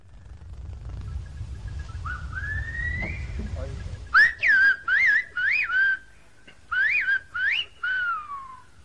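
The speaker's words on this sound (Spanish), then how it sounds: "el silbo gomero reproduce fielmente el lenguaje hablado, utilizando para ello variaciones de tono e intensidad" A low rumbling background gives way to a series of sharp, modulated whistles in Silbo Gomero, the whistled language of the Canary Islands, rising and falling in short bursts with brief gaps, like whistled speech.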